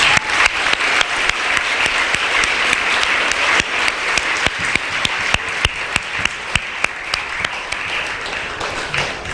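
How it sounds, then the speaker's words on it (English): An audience at a school valedictory ceremony bursts into sustained applause, a dense steady clapping from a large crowd that continues loudly throughout. "So please, let's give them a rousing round of applause."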